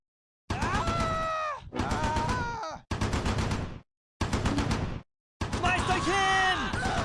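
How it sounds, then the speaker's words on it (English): A machine-gun ambush in Close Combat 4, Battle of the Bulge at Clerf: loud bursts of automatic fire in several separate stretches broken by silent gaps, mixed with shouting voices and groans. "The Germans pop out of the woods to the north, into a machine gun ambush."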